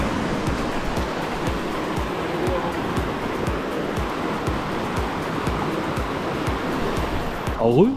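Heavy flowing water along a trail-running route on Réunion Island, a dense continuous rush and roar with no breaks, loud and close throughout.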